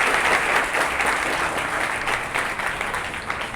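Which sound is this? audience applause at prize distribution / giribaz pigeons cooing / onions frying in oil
audience applause at prize distribution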